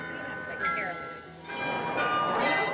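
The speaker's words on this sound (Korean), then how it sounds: "아, 근데 종소리 좋아." A bell rings with clear, sustained tones over a busy background, fairly close, while people talk nearby.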